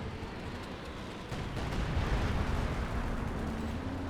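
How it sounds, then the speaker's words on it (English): Artillery strike rumbling in Company of Heroes 2 during a 4v4 match on Port of Hamburg, a dense, booming roar of distant blasts that swells louder midway and keeps rolling. "They actually called in an artillery strike against it"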